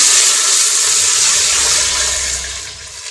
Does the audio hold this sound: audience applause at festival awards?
no